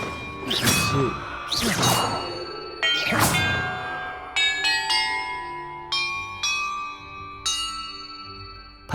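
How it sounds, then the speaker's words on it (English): Bells ring in Hogwarts Legacy, first three loud chimes and then a run of shorter, clear ringing tones, each struck note decaying in turn, with no voices. "Perhaps the map contains clues about the order I'm supposed to ring the bells in."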